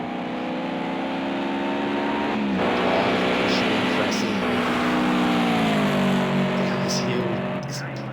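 Toyota 86 race cars circle the track in the Toyota 86 Championship, a steady engine drone whose pitch slides as cars shift and pass, loud and continuous beneath commentators talking.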